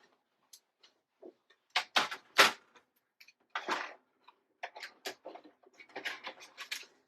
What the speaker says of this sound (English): let's put this on a card base. I need to cut a new one.